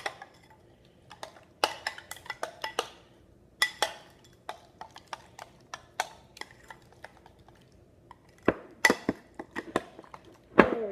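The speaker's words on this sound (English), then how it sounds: "So mix that cucumber and the tzatziki sauce together." A utensil scrapes and clinks against a bowl as cucumber is stirred into thick yogurt tzatziki sauce, producing irregular close clatters and taps with brief quiet gaps, and no talking.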